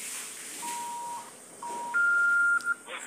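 A few electronic tones sound in sequence, each held briefly and at different pitches, like a phone dialing, against faint background hiss.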